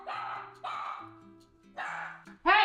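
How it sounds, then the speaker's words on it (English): A dog barks indoors, four loud, drawn-out barks spaced unevenly over a few seconds, close by, with no one talking. "You barking for no reason."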